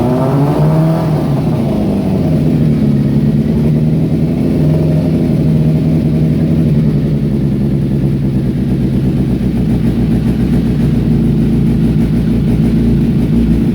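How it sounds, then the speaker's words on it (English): A 2004 Kawasaki ZZR600 (ZX600-E12) motorcycle engine with freshly rebuilt carburetors cranks, catches and settles into a loud, steady, close idle that runs unbroken. "we're now ready to start the motorcycle for the first time"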